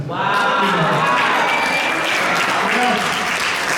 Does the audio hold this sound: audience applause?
yes